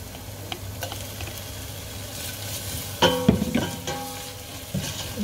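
Ginger sautéing in a pan gives a soft, steady sizzle with a few utensil scrapes and clinks of stirring partway through, fairly quiet and close.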